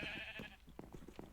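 Sheep bleating in a Minecraft sheep farm, a short nasal bleat followed by softer blocky game sounds, close and fairly quiet with no speech.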